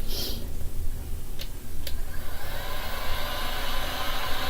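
Hair dryer blowing air over freshly poured resin on a record album, a couple of faint clicks leading into a steady close whooshing hiss.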